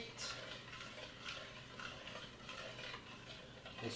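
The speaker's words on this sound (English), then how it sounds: "And stir and let that cheese" Cheese sauce for crawfish fettuccine being stirred in a pan over medium heat, a steady scraping and clinking of utensil against the pan with a soft sizzle underneath, close and continuous.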